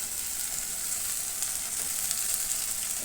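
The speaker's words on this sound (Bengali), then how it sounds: "আর এদিকে দেখো মশলা কষানো চলছে" Masala spice paste frying steadily in a pan, a dense, even sizzle that runs unbroken and fairly close throughout, with no voices over it.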